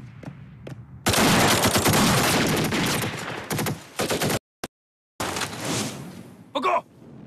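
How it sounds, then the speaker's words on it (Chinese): Bursts of rifle and machine-gun fire in a Chinese TV war drama battle scene, rapid crackling volleys for a few seconds, then a lone shot and a short final burst amid near silence. "潭牛方向响起了枪声"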